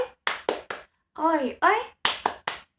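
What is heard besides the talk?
class doing a rhythmic spirit clap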